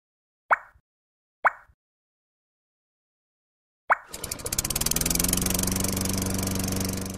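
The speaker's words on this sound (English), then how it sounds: "Lawnmower." A few sharp pull-cord yanks, then a small lawnmower engine sputters to life and runs steadily with a rough, buzzing idle, close and fairly loud.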